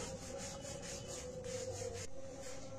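A rolling pin rolls out luchi dough dusted lightly with flour, giving a soft, continuous rubbing and scraping in quick back-and-forth strokes, close and quiet.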